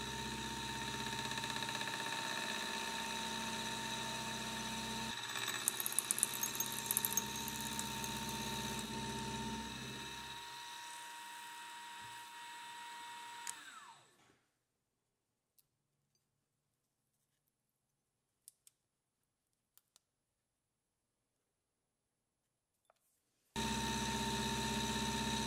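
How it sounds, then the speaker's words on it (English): A milling machine side mills a small metal part for a die filer to final dimension, giving a steady mid-pitched machine drone with a few sharp ticks. The machine then stops, leaving near silence before it starts again. "Then back into the mill, and I just side mill that guy down to final dimension here."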